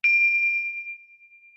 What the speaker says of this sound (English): Follow the sound of the bells into the silence.